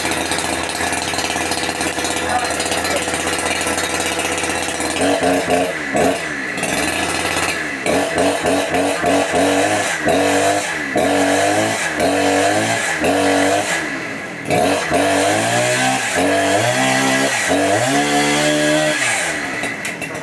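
A chainsaw engine runs loudly and steadily, then revs up and down repeatedly in rhythmic bursts throughout.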